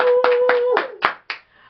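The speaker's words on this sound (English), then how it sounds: "Y'all clap it up for Edgar." A small crowd claps for a guest being introduced at a live talk show, a burst of dense hand claps that thins into a few scattered claps and fades out.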